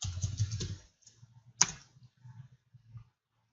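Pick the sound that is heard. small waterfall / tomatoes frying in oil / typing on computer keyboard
typing on computer keyboard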